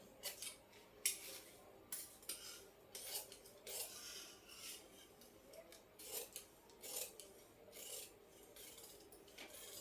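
Scissors snipping through blouse lining fabric, a steady series of crisp cuts and rasping slides repeating every second or so, close up with no voices.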